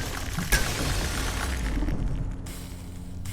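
An orb shatters in the video game Abiotic Factor with a sudden sharp glassy burst, followed by a dense wash of game ambience and a low rumble.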